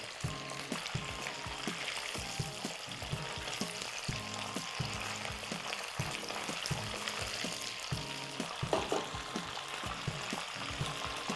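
Steady, close sizzling of chicken frying in hot oil on high heat, with intermittent stirring and scraping clatter throughout; no voices.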